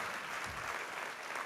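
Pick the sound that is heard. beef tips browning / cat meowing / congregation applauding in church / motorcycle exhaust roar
congregation applauding in church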